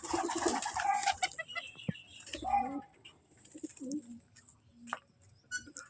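Pigeons coo on a rooftop in low, soft, rolling calls that sound close and repeat over a few seconds, with a faint voice briefly heard in the background.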